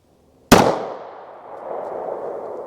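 A single loud, sharp report from a 9mm PMC Bronze JHP round fired near the mic, followed by a long rolling echo that tails off over about two seconds, with no one talking.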